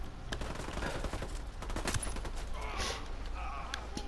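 Rapid bursts of automatic gunfire in Ghost Recon Wildlands crackle continuously at a moderate distance, dense, with faint voices mixed underneath.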